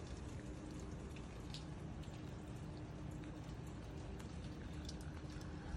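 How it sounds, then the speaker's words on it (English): Steady rain falling outdoors around a house with a two-car garage, sidewalks and street lights, a constant soft hiss of drops on surfaces, fairly faint and even throughout with no voices. "it's raining, so I'm trying to be kind of quick."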